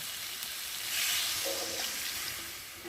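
Water is poured into a pan of fried masala, giving a brief rushing hiss and bubbling swell that rises then settles, close and alone.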